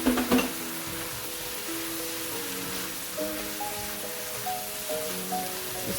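Chickpeas hit a hot pot and sizzle loudly at first, then settle into a steady, hissing fry with faint crackles, with no one talking.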